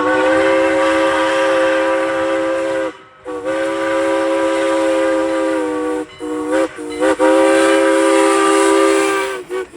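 A loud, close steam locomotive whistle on the Strasburg Railroad, a rich chime-like tone held in long blasts with brief breaks between them and a hissing edge.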